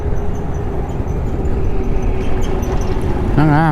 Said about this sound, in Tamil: மேலே ட்ரெயின்